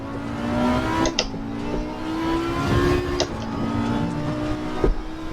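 An Audi GT4 engine in ACC stepping down through its 6-speed gearbox, loud close engine tone dropping and jumping with each sharp gear change, several shifts in quick succession.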